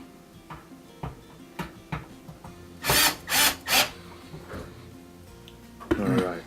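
Power drill tightening screws on a Thermador oven during thermostat replacement, three loud bursts of a few seconds each midway, with quieter clicks and handling noise around them and a further buzz at the end.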